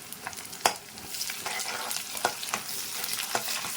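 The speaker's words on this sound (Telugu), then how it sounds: "వేగుతున్నాయి మనకి ఆనియన్స్ వేగుతున్నాయంటే కలర్ తిరుగుతాయి" Onions fry with curry leaves in a pan, giving a steady sizzle with occasional louder stirring scrapes and clicks, close and without talk.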